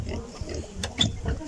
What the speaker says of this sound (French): un autre cochon qui veut sortir